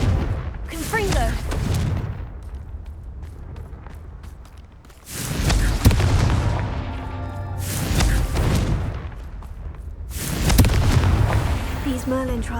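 In the Hogwarts Legacy video game, the Confringo explosive spell goes off in repeated heavy booming blasts with rumbling, crackling tails, three big bursts spread across the stretch with sustained noise between them.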